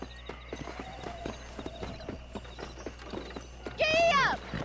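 Horse galloping in the Western video game Red Dead Redemption, a fast rhythmic clip-clop of hooves throughout, then a loud whinny near the end, with a voice talking over it.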